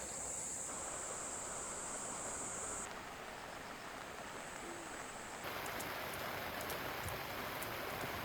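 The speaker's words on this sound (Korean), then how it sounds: "와 갑자기 엄청나게 쏟아붓고 있습니다 비가" A sudden heavy downpour at a rainy fishing spot, a dense steady hiss of rain with shifting wind, loud and continuous with no voices.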